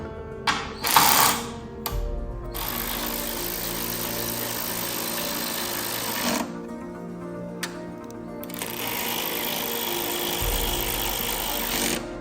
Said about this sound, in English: we're gonna get our 2 bolts bolted back down